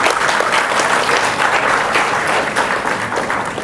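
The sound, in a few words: audience clapping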